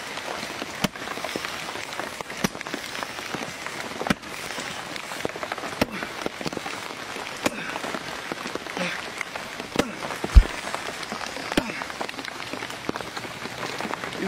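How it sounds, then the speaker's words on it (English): Steady rain patters on a surface with scattered sharper drips and taps, continuous and fairly soft, no voices. "It's raining outside."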